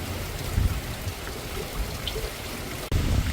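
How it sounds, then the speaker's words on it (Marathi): Steady patter of rain falling on a finger millet farm in Kolhapur, Maharashtra, a dense soft hiss with a few nearby drips, no voices. "आता पुन्हा पाऊस चालू झालेला आहे"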